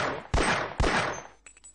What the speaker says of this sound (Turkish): Tamamdır. Mayın da patladı.